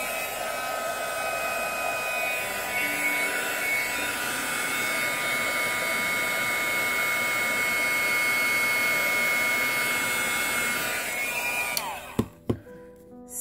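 A heat tool blows hot air steadily over craft paint, a loud continuous whooshing roar with a high whine that holds for about twelve seconds, then cuts off, leaving a few sharp clicks and handling knocks.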